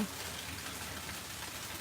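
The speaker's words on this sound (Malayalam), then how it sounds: "ഇപ്പോൾ മഴ ലേശം കുറഞ്ഞിട്ടുണ്ട് കേട്ടോ" Steady rain falling, easing off, a soft even hiss of drops on surfaces with no other sounds.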